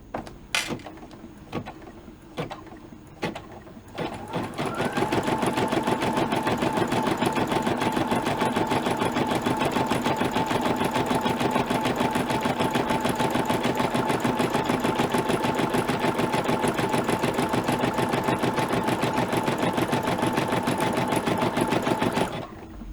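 An embroidery machine stitches a tack-down line on an in-the-hoop crayon pouch, a steady loud rapid mechanical whirring that runs continuously for most of the clip after a few brief clicks at the start.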